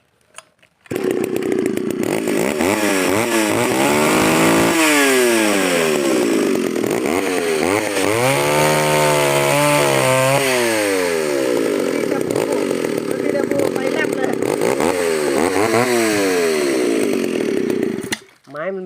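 A Japanese engine-driven hedge trimmer runs steadily and loudly for most of the clip, its pitch rising and falling as the throttle is worked, with a voice faintly underneath.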